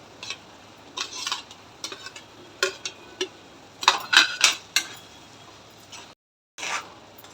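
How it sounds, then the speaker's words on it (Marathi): Fried jackfruit being stirred into masala in a pan, with irregular scraping and clinking strokes of a spoon against the metal, some in quick clusters, separated by quiet gaps and one brief silence. "आता आपण याला छान प्रकारे मिक्स करून घेऊया"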